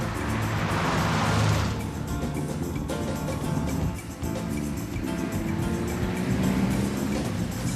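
A car accelerating hard during a chase, its engine roaring loud and close throughout, with a steady drone that swells and briefly dips midway before surging again.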